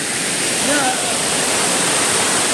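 Roaring waterfall on a trip around Dumaguete and Siquijor, a loud, constant broadband rush of falling water close by, with a brief faint voice under the steady roar.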